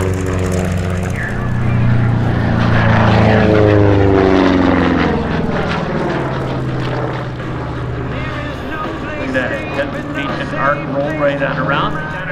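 A WWII-era propeller warbird, such as a Corsair, P-47 Thunderbolt or P-51, roars through a barrel roll at the Spirit of St. Louis Airshow 2024, its engine rising loud and then sweeping away while an announcer talks over it.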